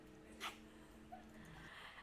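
A frightened dog whimpers softly in a few short, thin whines and breathy yips, faint and close, with low background noise and no talking.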